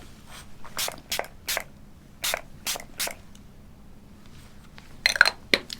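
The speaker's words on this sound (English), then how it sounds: "I also have this great setting spray." Bursts of makeup setting spray hit a face as several short, soft hissing spritzes with gaps between them, close and quiet, and a final quick cluster of sprays.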